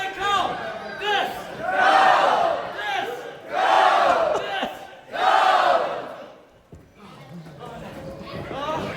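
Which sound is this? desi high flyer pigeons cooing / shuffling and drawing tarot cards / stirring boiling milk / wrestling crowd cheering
wrestling crowd cheering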